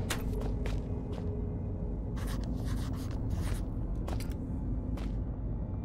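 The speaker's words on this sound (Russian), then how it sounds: "Я сделал заметку в блокноте." Pen or pencil scratching a note into a notebook in the video game Penumbra: Overture, a string of quick, crisp strokes over a low steady rumble.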